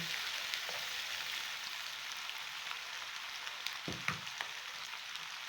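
White beans and yam fry together in hot oil with a steady, even sizzle that crackles on throughout, plus a few soft stirring knocks near the end and no talking.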